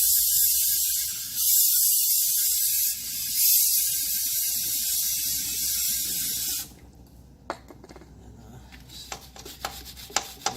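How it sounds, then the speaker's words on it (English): Chain cleaner sprayed liberally onto the chain of a 2013 Suzuki DRZ400SM motorcycle: a loud, steady aerosol hiss with brief surges for about six seconds, then it cuts off, leaving faint clicks and handling noises. "So just chain cleaner. Spray that on liberally,"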